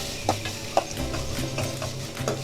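Thin carrot strips stir-fried lightly in hot oil for a chapathi wrap filling, a steady soft sizzle running throughout with a few sharp clinks of a spatula against the pan.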